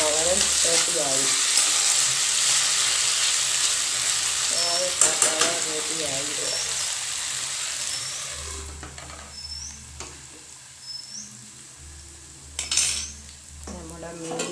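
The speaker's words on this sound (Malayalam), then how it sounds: "മീൻ നല്ലോണം പൊരിഞ്ഞ് മുരിഞ്ഞ് വന്നിട്ടുണ്ട്." Mackerel fish frying in a pan, with a steady hot-oil sizzle through the first half alongside utensil clinks and scraping, then quieter bursts of sizzling and occasional metallic knocks.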